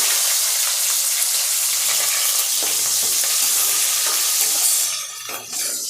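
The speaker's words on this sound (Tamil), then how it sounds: "வடகம் பொரிஞ்சதும் சின்ன வெங்காயத்தை ஆட் பண்ணிக்கலாம்." Shallots and vadagam frying in hot oil in a pan, a steady loud sizzle with faint stirring scrapes throughout, easing off near the end.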